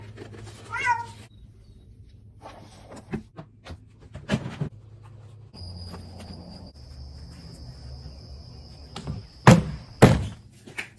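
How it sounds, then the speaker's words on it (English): A pet cat named Swiffer meows a few times indoors, a short clear call near the start, followed by scattered thumps and knocks, a steady high electronic whine and two loud bumps near the end. "that's my cat Swiffer"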